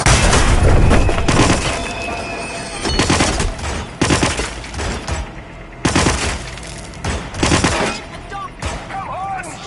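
Gunfire in the video game Hitman, dense volleys of loud shots and booming impacts with breaking sounds, coming in repeated heavy bursts across the whole stretch.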